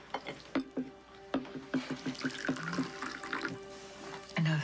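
Tea is poured from a tea set into cups: a steady trickle of liquid with several light clinks and taps of china, heard close and fairly quiet, with no talk over it.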